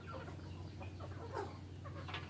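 Chickens cluck in short, scattered calls at a farm where the birds forage freely, heard against a steady low hum with faint background noise and no talking.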